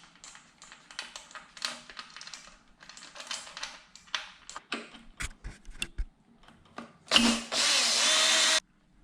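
Power tool backing out the front upper radiator bolts on a Yamaha R6, a close whirring burst near the end after a stretch of clicking and tool clatter.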